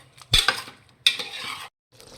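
Mutton pieces frying with rock salt, stirred in a pot: two bursts of metal spoon scraping and clattering against the pan over a steady sizzle, close and loud.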